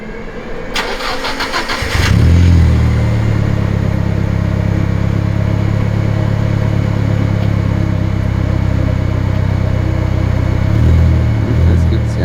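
A Nissan Silvia S14 engine fires up after a short crank and settles into a loud, steady idle close by as the clutch engages a gear, with a voice heard briefly.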